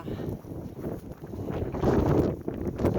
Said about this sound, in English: I just want you to see this wind